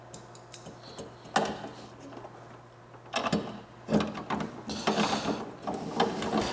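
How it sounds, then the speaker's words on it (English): Screws being driven into the front panel of a replacement NPE pump, heard as a series of close, irregular metallic clicks, rattles and scraping bursts with brief pauses between them, no talking. "all we got to do is just screw our front panel in"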